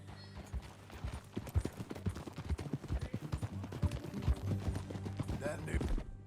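Horses' hooves clip-clopping while riding in the video game Red Dead Redemption 2, a steady run of hoofbeats at moderate distance over a constant background, with a dense, lively rhythm throughout.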